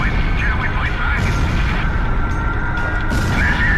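Rumbling bomb blasts from an aerial bombing run in Ace Combat Zero: The Belkan War, a dense, continuous low roar of explosions with aircraft noise that stays loud throughout.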